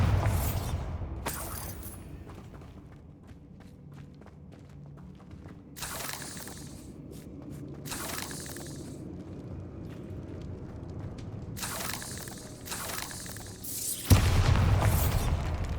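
Bombarda blasting spell in Hogwarts Legacy: a sharp, loud explosion bursts near the end after quieter scattered thuds and booms, and rumbling debris follows the blast.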